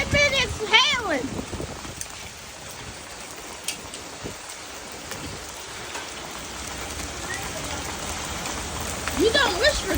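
Hail and heavy rain hammering down during a severe Texas thunderstorm, a continuous close hiss of impacts, with shouting voices briefly at the start and again near the end.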